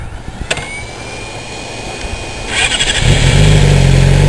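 A 2006 Yamaha YZF-R6 motorcycle with an aftermarket exhaust cranks over and fires up, settling quickly into a loud, steady, deep idle rumble close by after a few quiet seconds.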